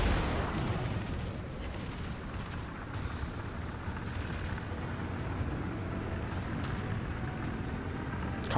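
Warship anti-aircraft guns in World of Warships fire at attacking bombers, a dense, unbroken roll of rapid booms and crackling bursts that stays fairly loud throughout.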